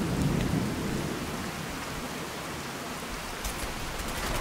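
Steady heavy rain hisses throughout in Fallout 4, with a deep thunder rumble at the start fading into the downpour.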